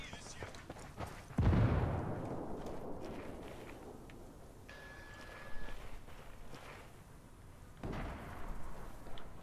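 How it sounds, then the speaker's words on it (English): A heavy mortar explosion in the video game Ghost Recon Wildlands, one loud booming impact early on followed by a long rumbling decay, with a second duller thud near the end amid other battle noise. "Mortar coming down."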